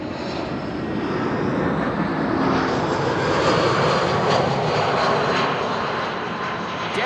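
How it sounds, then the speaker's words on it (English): An EasyJet airliner arriving at Amsterdam Schiphol roars past, a loud, steady broadband engine rush that holds at near-constant strength throughout. "EasyJet arriving from Bristol."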